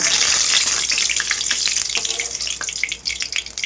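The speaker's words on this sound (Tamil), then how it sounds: "கடுகு போட்டாச்சு ஃப்ரெண்ட்ஸ் கடுகு வந்து கொஞ்சம் பொரியட்டும்" Mustard seeds frying in hot oil, a loud dense crackling sizzle with quick sharp pops scattered throughout, heard alone and close.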